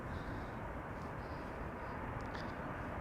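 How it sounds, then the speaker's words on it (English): A KLM passenger jet arriving from Porto, heard as a faint, distant, steady broadband engine rumble that holds even throughout, with no clear approach or fade. "KLM flight 1570 next to land."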